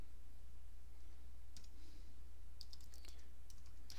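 Typing on a computer keyboard, sparse light clicks at first and then a quicker cluster of keystrokes, quiet over a low steady hum.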